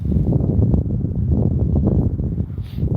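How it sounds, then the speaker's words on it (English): Steady low rumbling wind buffeting the microphone, continuous and close, with gusty swells throughout and no voices. "Yeah, it's definitely windy out here."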